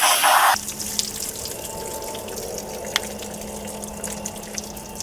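Water runs steadily from a tap out in the open, a loud initial gush lasting about half a second, then settling into a weaker continuous flow with a low hum and scattered drips and clicks.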